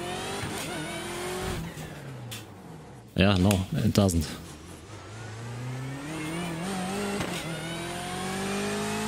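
A race car engine in iRacing drones and revs as the car drives around, pitch rising and falling with gear changes and throttle, while a person speaks briefly over a short burst in the middle.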